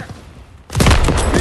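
Heavy gunfire in Call of Duty WW2 during a Normandy battle breaks out suddenly after a quiet moment, a loud, dense burst of shots and booms.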